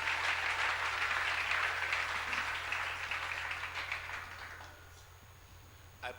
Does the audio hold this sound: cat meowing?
no